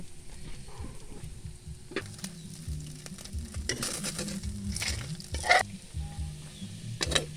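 Meatloaf toasting in a frying pan, a steady sizzle close up with scraping and stirring clatter from a utensil against the pan, no talking.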